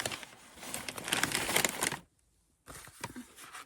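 Close, busy crinkling and rustling of a paper envelope being opened and handled for a scrapbooking advent calendar, a dense burst that breaks off into brief silence before softer handling resumes, no talking.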